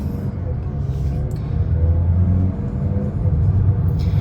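A 2024 Mazda CX-50 with a SkyActiv automatic transmission accelerates harder, its steady low engine drone filling the cabin and briefly dipping as the gearbox snaps through a quick shift, then pulling on.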